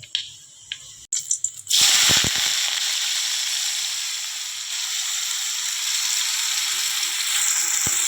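Chopped onion is tipped into hot oil with sizzling cumin seeds, a few clinks and rustles giving way to a sudden loud, steady hiss of frying that carries on evenly.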